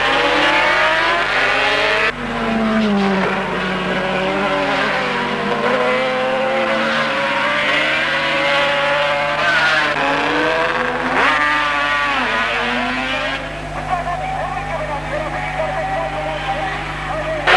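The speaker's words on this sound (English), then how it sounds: "an exciting struggle develops down the line with Avant, Willing and Woodley swapping places" Racing motorcycles roar continuously through a 1976/77 race, engines rising and falling in pitch as riders swap places, the loud engine noise going on under steady commentary.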